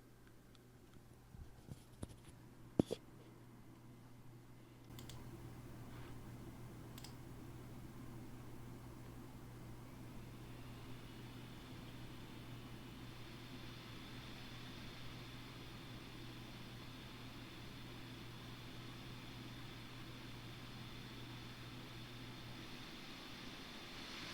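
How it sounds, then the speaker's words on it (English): A GMKtec Nucbox G5 N97 mini PC's cooling fan under load gives a steady, faint whir that begins after a few light clicks and gains a higher hiss partway through, then holds constant to the end. "you should be able to relate that with the sound that you get out of the mini PC itself"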